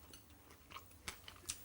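Deep fried whitebait sprinkled with fried shredded cabbage and lemon being bitten and chewed, giving a few faint, sharp crunches close to the mic.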